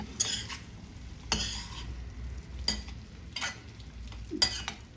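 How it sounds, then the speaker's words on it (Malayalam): Aloo gobi dry curry with cauliflower, potato and garam masala stirred in a pan: a handful of separate, sharp spoon scrapes against the metal over a soft sizzle, close up and unaccompanied by talk. "ഇനി ഇതൊന്ന് മിക്സ് ചെയ്തെടുക്കാം"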